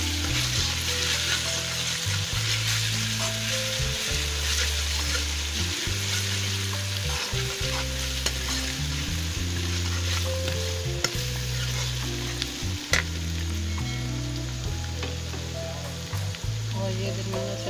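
Ginger paste frying with browned onions in a pan, a steady loud sizzle broken by repeated scraping stir strokes in a regular rhythm throughout, with a low tonal hum underneath.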